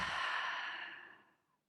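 A deep exhaled breath during a chair yoga session, a single long airy sigh that starts strong and fades out over about a second and a half, close and alone.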